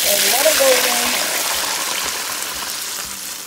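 Water is poured into a hot pot of beef with a short gush, then settles into a steady hiss and sizzle while the meat simmers.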